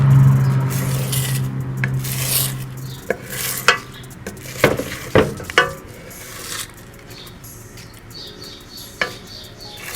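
Eggs are beaten in a bowl for scrambled eggs, giving close-up scraping and stirring with sharp clinks of the utensil against the bowl at an uneven rhythm.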